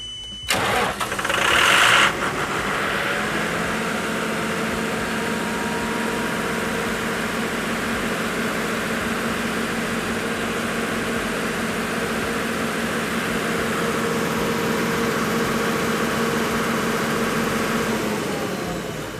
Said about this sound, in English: So at this point we're going to go ahead and start the engine